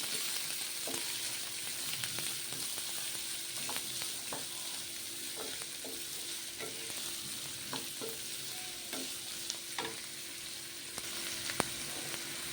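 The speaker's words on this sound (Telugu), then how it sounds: "పోపు దినుసులు మాడిపోకముందే ఉల్లిగడ్డలు వేసుకొని వేసుకుంటే బాగుంటుంది మాడనియదు" Onions sizzle in oil with tempering spices for a boiled egg fry, a steady moderate crackle broken by repeated sharp clicks and scrapes of a spoon stirring the pan.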